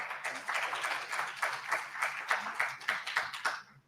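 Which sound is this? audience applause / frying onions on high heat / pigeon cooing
audience applause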